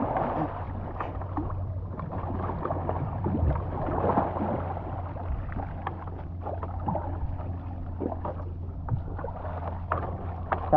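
Paddles dipping and pulling a small boat through water in an irregular rhythm, with soft splashes and gurgles over a low wind and engine-like hum.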